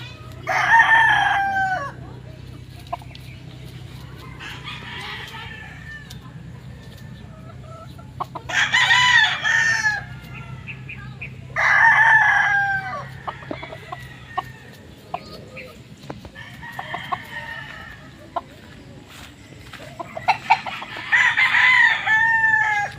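A rooster crows several times in long, loud bursts spaced apart in a chicken breeding pen, with hens clucking and scattered farmyard noises in between.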